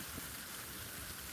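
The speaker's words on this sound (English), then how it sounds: "I ain't never heard snow sound like rain like this in Philly." Wet snow comes down on a Philadelphia street, making a steady, soft hiss like light rain falling on surfaces, faint and continuous with no voices.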